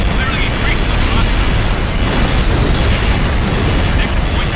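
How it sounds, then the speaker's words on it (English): Railgun fire and explosions from the Ace Combat Infinity video game form a dense, continuous roar of booms and blasts. A voice talks over the din. "Railgun fire incoming!"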